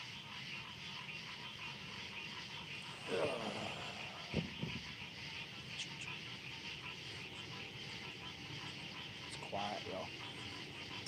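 An airplane drones steadily overhead in a quiet outdoor setting, a continuous distant engine hum persisting throughout with a few brief louder rustles and thumps nearby.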